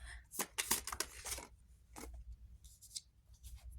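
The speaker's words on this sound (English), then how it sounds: "Let me just pull the cards prior to me speaking." Tarot cards slide and rasp as they are drawn from a deck, a quick run of close, crisp shuffling and sliding swishes, then a couple of softer card rustles after a short pause.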